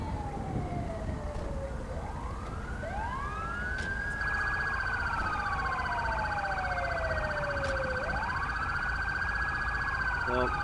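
Ambulance and police sirens in the GTA V LSPDFR video game wail and sweep up and down together, with a steady high electronic tone layered on top, loud and continuous over a low engine rumble.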